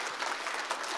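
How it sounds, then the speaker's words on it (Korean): Audience applause at a business culture forum, a brief dense wash of clapping from a seated crowd, steady and moderately loud. "여기서 박수를 한번 치시고 계세요."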